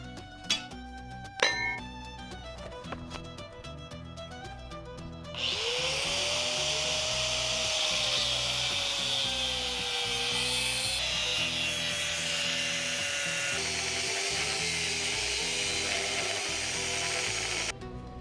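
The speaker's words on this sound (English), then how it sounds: "Let's go ahead and put it into the vise and cut it to the length we need." Spring steel stock clamped in a vise is cut with a power tool, a loud steady grinding whine with a pitch that wavers, running continuously for about twelve seconds after some brief clanks and handling noises.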